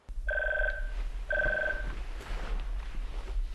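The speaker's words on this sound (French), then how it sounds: "Elle téléphone à Charles." A telephone rings twice in short electronic trills, each burst clear and steady, followed by a faint rustle and background hum.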